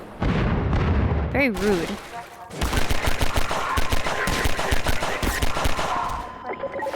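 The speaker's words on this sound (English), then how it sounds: "It's called the G2. Just one of those guns where" The G2 gun fires in a video game in rapid bursts of sharp shots that run for several seconds, close and loud, with a voice speaking briefly before the firing begins.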